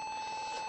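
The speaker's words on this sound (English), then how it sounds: "I rigged up this wireless phone when Fat Cat wasn't looking" A wireless phone rings with a quick, faint electronic trill made of rapid repeating beeps at one steady pitch, heard alone for under a second.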